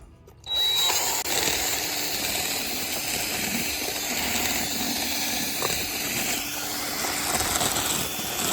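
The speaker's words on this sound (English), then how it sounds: "It's a 1/2 inch bit, but it's long, and I'm going to put it on the drill" A power drill fitted with a long half-inch bit runs steadily, loosening seeds inside a dried gourd for birdhouses; the loud, continuous whir starts abruptly after a brief quiet moment and holds with slight variations throughout.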